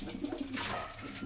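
Punjabi Malwai pigeons coo softly in a short run of low, rounded calls, close by, with no voices present.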